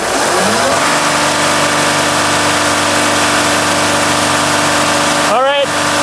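Mercedes Sprinter van diesel engine with low power and DPF issues, loud and close, revving up at the start and holding a steady high drone before dropping sharply near the end, with people talking.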